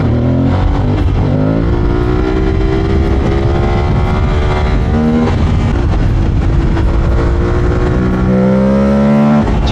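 A Yamaha R1M sport motorcycle engine roars loudly up close, revving and climbing through the gears, the pitch rising and dropping with each shift.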